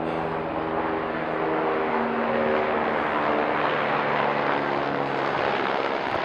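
A steady, loud engine drone with a low throbbing hum holds throughout as a tour helicopter passes overhead, with no talking.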